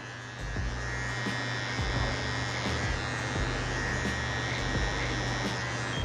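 An electric hair clipper cutting hair for a V-shaped fade, a steady close buzz with faint shifts in tone as the blades move through hair, continuous and alone without talking.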